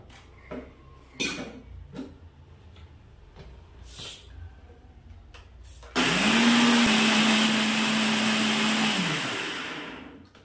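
A mixer grinder starts up loudly and blends cream for ghee with a steady high whine for about three seconds, then winds down; faint clinks and knocks come before it.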